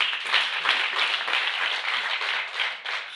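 Sustained congregational applause for God fills a church service, dense steady clapping from many hands at close range, unbroken from start to finish with no voices over it.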